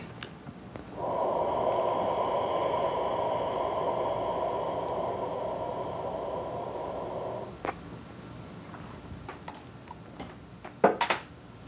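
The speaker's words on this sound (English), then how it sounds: "I'm gonna inhale." A long, steady deep inhale of smoke lasting several seconds, airy and close, followed by quieter breathy exhaling and a few soft clicks near the end.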